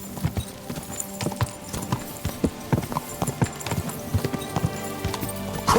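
A horse walks along in the medieval game Kingdom Come: Deliverance 2, its hooves giving a close, rhythmic clip-clop over quiet background music.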